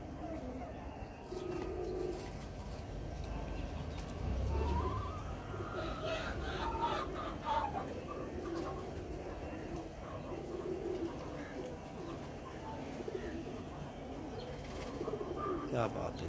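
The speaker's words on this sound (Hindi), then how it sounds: "बड़े भरपूर मजबूत कबूतर हैं ये" Pigeons on a Lahore rooftop coo softly in low, rolling calls with occasional chirps and a brief flutter of wings, while a voice talks intermittently nearby.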